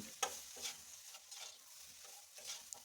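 Ginger paste, turmeric, cumin and salt are stirred together with bottle gourd in a pan, giving faint, soft scraping and light sizzling in irregular strokes, quiet and close with no talking.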